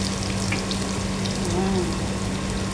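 Garlic and onion sauté in a pan for a mung bean and vegetable dish, producing a dense, even crackling hiss with a faint voice briefly underneath.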